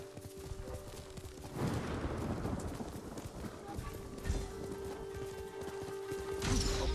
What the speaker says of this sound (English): Just trying to purposely slow down my horse so we don't outrun the Fox.